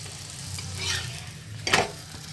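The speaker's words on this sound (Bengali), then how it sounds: "এই যে পরোটাটা ভাজা হয়ে গেল" A potato paratha fries in oil on a tawa with a steady low sizzle, and a sharper scraping burst near the end as it is turned or pressed.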